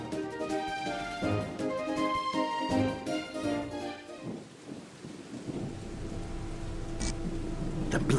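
Steady rain in the Steam Dolls: Order of Chaos game trailer, a continuous hiss of rainfall with low rumbling, first layered under music, then alone and fairly faint.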